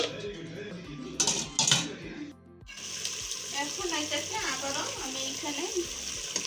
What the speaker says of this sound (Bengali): এখন ঢাকনা দিয়ে ঢেকে এটাকে বারবার কষিয়ে রান্না করব